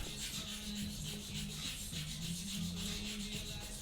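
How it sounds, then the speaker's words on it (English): Sandpaper rubs back and forth over a scratched part of a Yamaha XT660Z motorcycle, making a steady, close, raspy scraping in even strokes with no talk. "This is the easiest way to remove the scratches, and then of course you have to polish it with a few different types of sandpaper."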